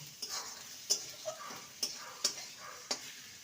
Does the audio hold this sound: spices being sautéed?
yes